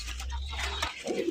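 Maxi Racer pigeons cooing in a fancy pigeon collection, soft low coos over a constant low hum, with a brief brighter rustle near the end and no clear talk.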